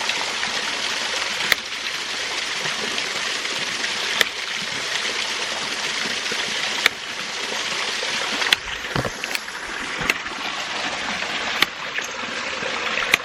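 Hydraulic ram pump running with its delivery pipe closed, rushing water flowing steadily with sharp, hard knocks from the pump's valve at irregular intervals of a few seconds, loud and close.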